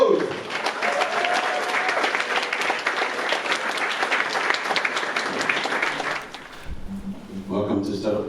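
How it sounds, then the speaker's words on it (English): Standing audience at a Startup Grind Cape Town evening giving a warm welcome to a guest speaker, sustained clapping for about six seconds before it fades and voices begin talking. "get up on your feet, and give a warm round of applause"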